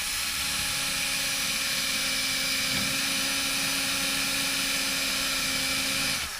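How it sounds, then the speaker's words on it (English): A power drill bores through stacked parts of a homemade tablet holder for a DJI Mavic Pro or Spark drone, resting on a cutting board, giving a steady, close, high whine that holds unbroken throughout with no talk. "I'm gonna go ahead and drill through."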